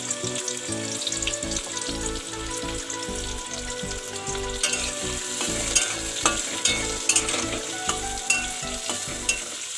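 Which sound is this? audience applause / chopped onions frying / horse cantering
chopped onions frying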